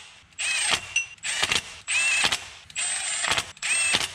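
13 mm crank pulley bolts being driven back into a Dodge Ram 3.9 or 5.9 engine, five short whirring bursts from a power driver separated by brief pauses, close and loud.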